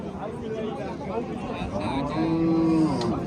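An ox lows at a busy livestock market on a rainy day, one drawn-out moo rising clearly near the end over a steady crowd murmur and scattered voices.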